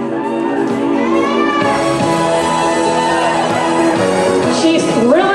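An audience at a Japanese fashion show cheers and shouts loudly with high whoops and screams swelling throughout, a dense, close roar of many voices.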